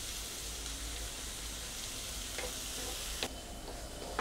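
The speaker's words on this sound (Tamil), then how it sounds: "கொஞ்சம் நல்லா வெங்காயம் வந்து சிம்லயே வச்சுட்டு நல்லா வதக்குங்க" Onions sautéing in a pan with curry leaves for prawn thokku, a steady low sizzle and crackle throughout with a few brief stirring clinks near the end, no talk.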